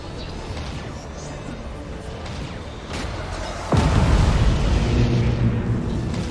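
Torpedo hits explode in a Battlefleet Gothic Armada II space battle, building into a dense rumbling roar with a sudden heavy blast midway, layered over continuous game noise.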